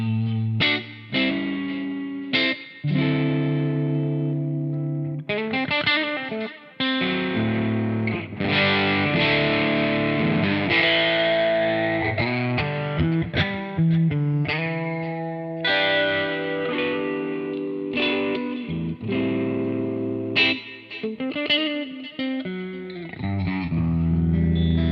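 An electric guitar played through an overdrive preset with modulated delay and spring reverb on a Flamma E1000 unit, sustained distorted chords and lead notes ringing with wavering echoes and a washy tail, loud and continuous with no talking.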